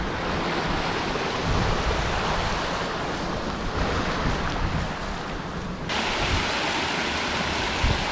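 A mountain stream in the Carneddau, Snowdonia, rushes steadily over rocks in a continuous broadband wash, close and loud throughout, with no voices.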